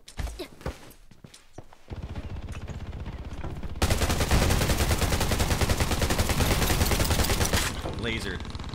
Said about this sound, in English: Guy's got a minigun, dude.